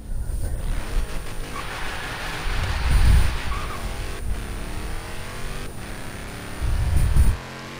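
A Dodge Hellcat engine roars in a Forza Horizon 3 drag race, holding a loud, sustained drone with swelling revs and a sharp rise near the end before it cuts off.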